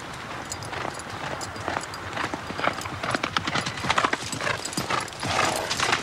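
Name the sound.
horse hooves as a boy rides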